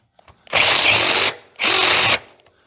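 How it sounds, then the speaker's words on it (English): Power drill with a step (Christmas tree) bit boring a hole out to 3/4 inch, two loud close bursts of high whirring and cutting, each under a second long, separated by a short pause. "We use our Christmas tree bit, hopefully, to drill this out."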